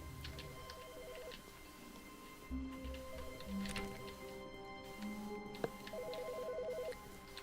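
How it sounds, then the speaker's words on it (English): Ringing office phone in the video game The Stanley Parable, sounding as repeated short electronic trill bursts over a low ambient hum and soft tones, fairly faint, with no talking. "Why is the phone ringing?"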